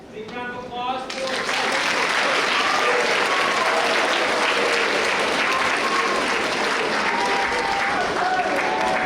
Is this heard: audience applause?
yes